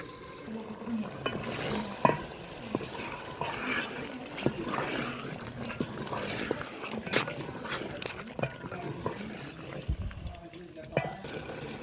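Boiled chicken pieces, about a kilo, stirred into sizzling fried masala in a handi, with a soft steady frying hiss and scraping stirs, close up under a person talking.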